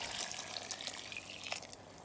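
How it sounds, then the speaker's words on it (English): Water poured into a cooking pot of rice, okra and vegetables for cook-up rice: a steady, moderate splashing pour runs continuously for about two seconds, with no talking. "some more water in here for the rice to cook"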